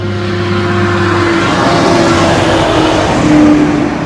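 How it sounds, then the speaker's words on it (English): A log truck passes on a busy highway beside a parked travel trailer, a loud, close rumbling engine and tire roar sweeping by over several seconds with a steady low hum. "Log truck."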